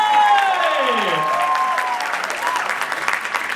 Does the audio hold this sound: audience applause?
yes